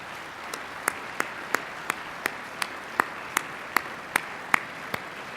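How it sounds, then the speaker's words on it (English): Convention audience at a Utah Democratic party gathering applauding the party staff: sparse, evenly spaced individual claps over a faint room hiss, fairly quiet and distant, with no talk. "please stand up and take a very well-deserved round of applause"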